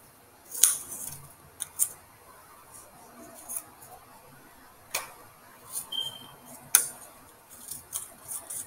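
Scissors snip through paper, cutting a menorah candle shape along a dotted line, in sparse, sharp crisp snips spaced irregularly, heard close and fairly quiet.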